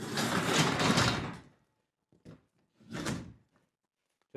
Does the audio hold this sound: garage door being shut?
yes